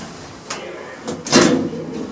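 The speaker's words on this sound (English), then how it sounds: "Cierre de puertas. Doors closing." Hotel elevator doors in Mallorca slide shut with a couple of soft knocks and then a brief louder rumbling thud, heard close.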